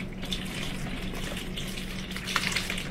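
Urine pours steadily into a bottle, a continuous splashing trickle that brightens slightly near the end.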